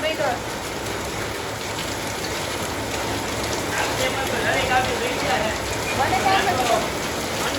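Heavy rain pours down steadily in a dense, continuous hiss of drops hitting the ground, with a few faint voices in the background.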